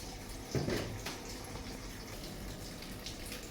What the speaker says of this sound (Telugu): ఇప్పుడు దీంట్లో మనం వాటర్ అనేది వేసేసుకుందాం